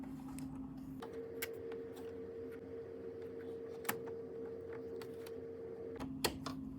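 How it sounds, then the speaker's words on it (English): Zigzag presser foot snapping onto a sewing machine in a quiet room: a couple of sharp, faint clicks over a low steady hum. "Then attach the zigzag foot."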